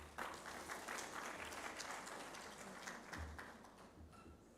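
Applause from the audience at a university agricultural research conference hall, a steady, fairly quiet wash of hand clapping lasting the whole stretch with no voices.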